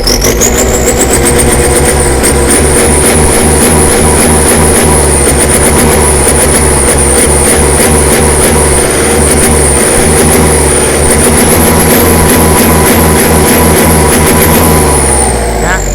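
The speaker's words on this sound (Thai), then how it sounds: "เสียงก็จะดุกว่านะครับผมเวลาเราเบิ้ลคันเร่ง" A loud L4708 engine with a wet-type air filter revs hard over and over with quick throttle blips, roaring and dropping in steady bursts, close up and continuous.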